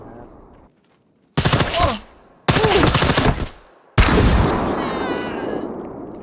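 Gunfire in the video game SCUM: several loud close bursts of rapid automatic fire separated by short pauses, the last burst trailing into a long echoing tail, with no speech over the shots.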